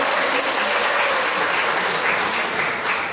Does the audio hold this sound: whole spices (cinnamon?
no